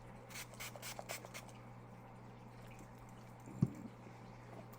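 A few quick, soft sprays hiss near the start, followed by quiet room noise and a single dull tap.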